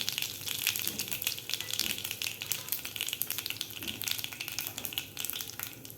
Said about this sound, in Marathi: जिरे आणि मोहरी व्यवस्थित आपली फ्राय झालेली आहे